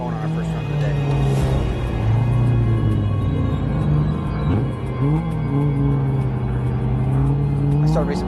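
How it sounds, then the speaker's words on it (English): Race cars running at the Pikes Peak hillclimb give a steady, loud engine drone that rises and falls in pitch throughout, with voices talking over it. "So cars are starting to run right now."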